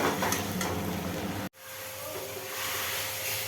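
Chicken frying in a pan and being stirred, a steady loud sizzle with scraping movement that cuts out sharply for a moment mid-way, then resumes.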